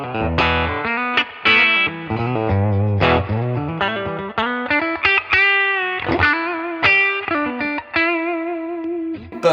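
An electric guitar on its bridge pickup plays bright, distorted riffs and sustained notes through a 1960s Fender Deluxe Reverb amp, close and loud with a slightly chorused edge.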